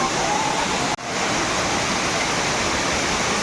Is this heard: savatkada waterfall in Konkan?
yes